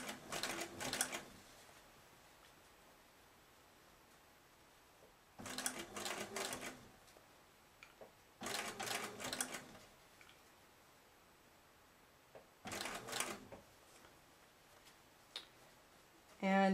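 A sewing machine stitches curved pieces of quilt fabric in four or five short, rapid bursts of mechanical ticking, with quiet pauses between them.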